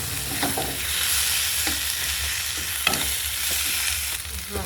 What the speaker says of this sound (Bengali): আমি পেঁয়াজটা ভাজা হয়েছে, টমেটো মশলা সব দিয়ে দিলাম